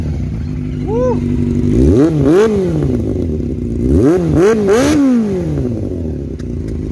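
A Yamaha FZR 400 motorcycle engine idles steadily, then revs up sharply twice in rising and falling sweeps, and a second pair of quick revs follows. It is close and loud, and one short shout is heard over it.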